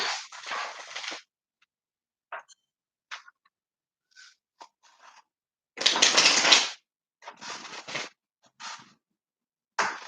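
Several bursts of riffling, rustling shuffles of a Rider-Waite tarot deck, close and fairly loud, separated by short pauses and small taps.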